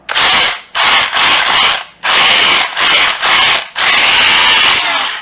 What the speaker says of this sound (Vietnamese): rồi chế độ búa thì mọi người phải nhấn vào thế này thì mới có búa này